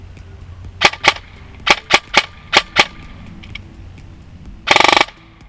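A Novritch SSR15 high-end airsoft M4 rifle fires a string of crisp single shots, sharp close clicks in irregular succession, then a rapid full-auto burst of about half a second near the end.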